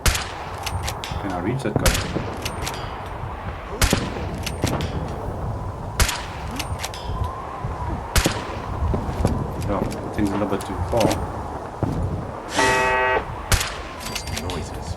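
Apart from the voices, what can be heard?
turret gunfire in video game Fallout 4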